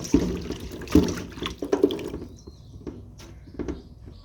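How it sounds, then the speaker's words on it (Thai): Fresh chillies sloshed and rubbed in a bowl of water: close splashes and wet clatter at first, then easing into softer trickles and drips. "ล้างแบบนี้นะคะ 2-3 รอบค่ะ"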